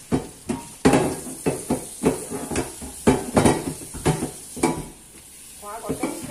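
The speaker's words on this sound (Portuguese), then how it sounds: "Essas panelas precisam estar lavar na mão, né?" Pots washed by hand with hot water in a home kitchen: close, irregular clanks and knocks of metal cookware with scraping and a hissing wash of water between them, no talking.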